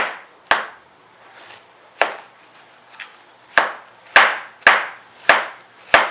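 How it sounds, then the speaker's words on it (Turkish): Sharp knife strikes finely chopping cauliflower on a cutting board, irregular at first then settling into a steady chopping rhythm, close and clear. "Ve şimdi bıçak yardımıyla minik minik ince ince doğrayacağım."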